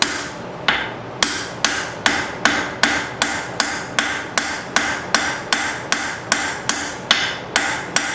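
Steady hammer blows on hot steel being forged into banister hooks, about fourteen sharp, evenly spaced strikes ringing close and loud with no talk.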